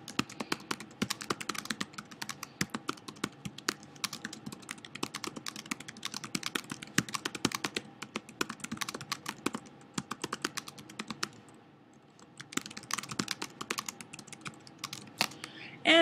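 Fast typing on a computer keyboard, a steady stream of crisp close key clicks with a brief pause near the end before the tapping resumes.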